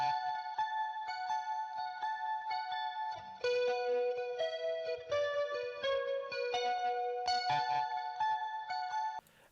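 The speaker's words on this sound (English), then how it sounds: "Got the same chorus and a little bit of delay to give it a bit more atmosphere." Electric guitar with chorus and a little delay, a clean shimmering melodic line of sustained notes played alone at moderate volume.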